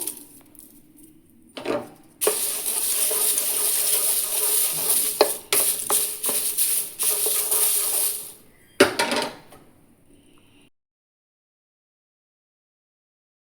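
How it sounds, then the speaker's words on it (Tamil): Washed, dried curry leaves are lightly roasted in a pan for idli podi. They give a loud crackling sizzle along with scraping stirs and a few utensil knocks. The sound cuts off, a brief clatter follows, and then it goes silent. "கருவேப்பிலையை லைட்டாக வதக்கிக்கலாம்"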